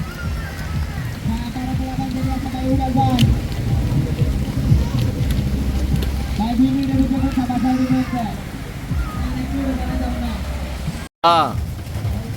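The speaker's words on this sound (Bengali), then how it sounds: "বৃষ্টি পড়তেছে" Rain falls steadily in the background while people talk over it, with a brief cut near the end.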